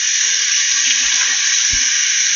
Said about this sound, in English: The water's running.